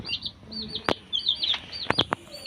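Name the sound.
chicken chick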